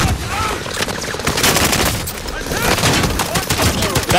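Dense, continuous bursts of gunfire from the Caldera mode of a Call of Duty battle royale, loud and rapid throughout, mixed with booms and faint background sounds.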